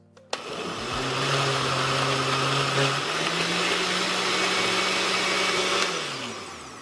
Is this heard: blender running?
yes